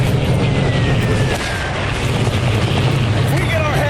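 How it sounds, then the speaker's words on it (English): Airstrike explosions in the war video game 63 Days: a loud, continuous booming rumble with heavy low-end roar that persists without a break. "another airstrike incoming"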